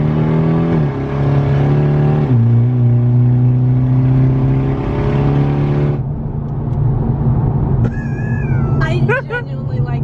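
A Mitsubishi Evo 10 with a straight-piped exhaust, open dump downpipe and test pipe drones loudly and steps down in pitch as it downshifts, then settles lower while voices chatter in the cabin.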